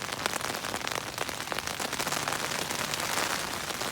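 Rain falls steadily on an REI Quarter Dome SL1 tent, a dense close patter of drops drumming on the fabric, even and continuous throughout.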